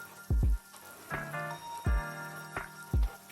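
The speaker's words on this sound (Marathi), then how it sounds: "मस्त असा एक सारखा मी याला चांगला असा परतवून घेत आहे" Grated carrot for gajar halwa being sautéed in a pan: several sharp metallic clanks and ringing scrapes of a spatula against the pan, spaced irregularly over a low background.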